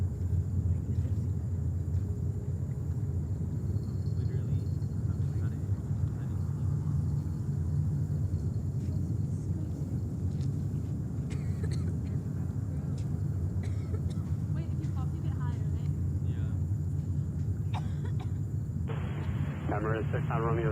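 Steady low rumble of Airbus A380 superjumbo airliners arriving at JFK airport in New York, a sustained distant roar filling the whole stretch with no clear break, with faint background voices.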